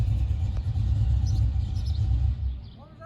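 A go-kart fitted with a blower passes by in a neighborhood, giving a deep rumbling engine roar that stays loud and then fades as it moves away, with faint voices nearby.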